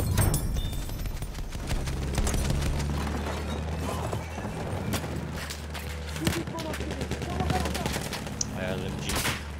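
Light machine gun fire in a multiplayer war video game: dense, continuous rattling volleys from several guns, loud and close, running throughout under game noise and shouted voices.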